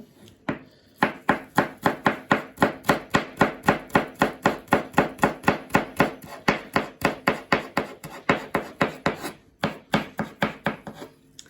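Garlic is finely chopped with a knife in fast, even, rhythmic strokes close by, with a short pause near the end before the chopping resumes.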